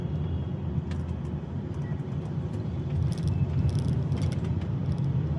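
Muffled road noise from a car turning onto a flyover in Pune traffic, a constant low engine and tyre rumble with faint higher clicks and passing sounds, no talking.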